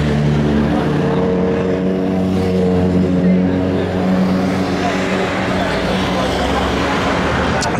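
A 2024 Honda Africa Twin 1100 with a 19-inch front wheel hums along at a steady cruise, a continuous engine drone mixed with wind rush, with a rider talking over it.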